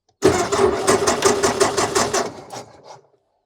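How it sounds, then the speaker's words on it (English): A pre-war French car's starter cranks with rapid, even pulses for about two seconds, close and loud, before fading to silence. "So switch it on. Make sure it's out of gear. And press the starter."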